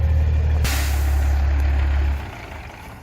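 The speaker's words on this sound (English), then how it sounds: "He's currently moving the truck right now" A heavy truck idles with a loud, steady low rumble, then a sharp burst of air-brake hiss cuts in partway through and the engine note drops off toward the end.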